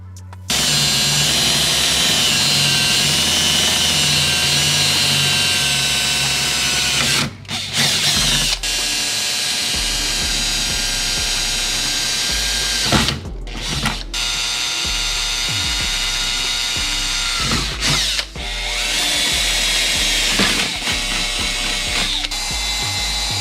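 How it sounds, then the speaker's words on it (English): A power drill bores holes around a Mustang bumper while a chin spoiler is fitted, whining loud and close in long steady runs broken by short pauses. "What I've done is I've drilled holes all around the bumper."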